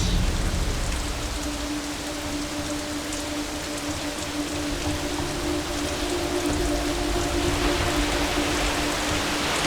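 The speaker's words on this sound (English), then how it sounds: "Just before we started to bring our plates up to the judges, it just poured down rain." Heavy rain pours down steadily outdoors, a dense, even hiss of drops on surfaces that stays loud and unbroken throughout with no voices.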